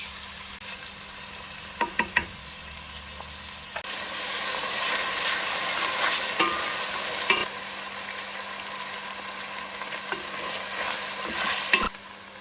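Venison curry ingredients fry and crackle in hot oil, a steady broad sizzle running throughout with a few sharp scrapes and knocks of stirring near the start and end; no talking.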